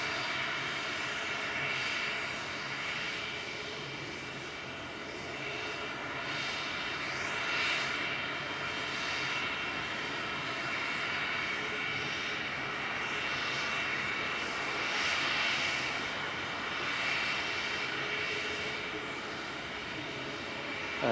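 An EasyJet airliner arriving at Manchester Airport gives a long, steady engine roar with a broad rushing hiss that swells and eases slightly over about twenty seconds, moderately loud and without talk.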